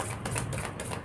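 Tarot cards are shuffled in a short, dense burst of papery riffling and flicking, close and continuous for about a second, with no voices.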